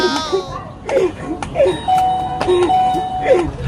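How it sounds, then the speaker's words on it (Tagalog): A doorbell chimes again and again in quick succession, loud and close, each ding-dong tone ringing out over faint background voices. "tigilan mo yung doorbell namin, huwag kang pindot na pindot"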